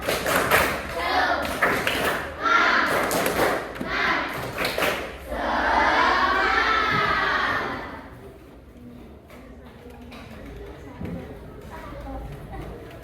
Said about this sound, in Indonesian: Mari kita tepuk semangat bersama-sama.